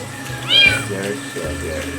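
A single rising-falling meow from a black cat being bathed cuts in briefly over running water and low background voices.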